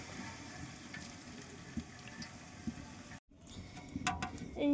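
Bathua greens go into braised meat frying in a pot for khichuri, giving a faint, steady sizzle with occasional soft stirring knocks, briefly cut off and then resuming a little louder.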